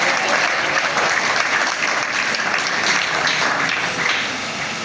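Sustained audience applause at a pension event, dense steady clapping from a crowd filling the whole stretch, loud and close, easing slightly toward the end.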